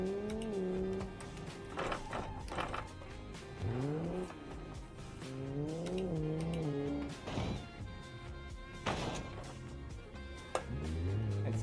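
An unmuffled inline-four car engine in a racing video game revs up and down through repeated gear shifts, its raw, buzzing note rising and falling continuously with no talk over it.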